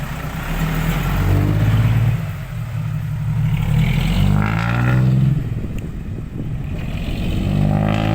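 Car engine pulling away and accelerating during a casual ride, a steady mid-range engine drone that rises and swells through the clip, with faint clatter and no talking.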